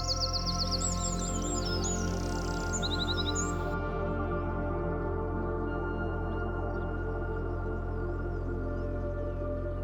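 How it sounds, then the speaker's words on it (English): Birds in the Amazon rainforest sing a dawn chorus of high, quick chirps and trills that fade out partway through, over a steady low hum and drone. "listening to the dawn chorus of birds"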